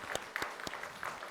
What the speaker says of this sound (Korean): 우리 모든 남신도들 위해서 박수 한번 보내드릴까요?